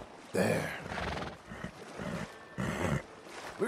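A horse in the Red Dead Redemption 2 video game gives several loud, close whinnies and snorts in bursts, with a few hoof clops between them.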